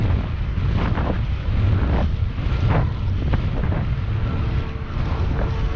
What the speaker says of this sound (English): There's a nice headwind.